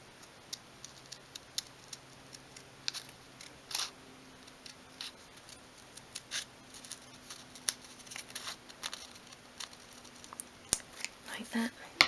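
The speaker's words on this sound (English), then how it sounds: "that's just a simple curve, and then we're going to cut that out" Paper being cut along a simple curve with scissors for a 1/12 scale miniature sideboard, a quiet series of small irregular snips and ticks, fairly close and soft, with light room noise.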